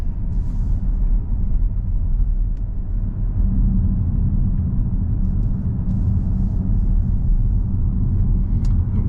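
Inside a Skoda Enyaq electric car accelerating onto a four-lane highway, there is a loud, steady, low rumble of road and motor noise with a faint high whine. No one speaks.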